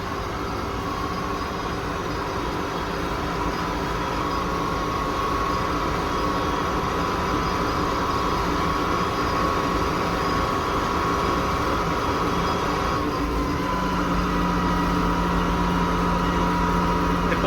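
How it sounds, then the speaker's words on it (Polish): A Case IH tractor driving at about 25 km/h: a loud, steady engine drone with a constant mechanical hum that runs throughout, its tone shifting slightly partway through. "Ciągnik jedzie teraz jakieś 25 na godzinę"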